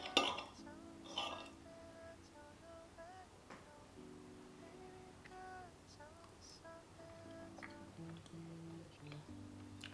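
Fork and knife clink and scrape against a plate while someone eats homemade lasagne. A few sharp clinks come early, then softer scattered taps over faint tonal background sound.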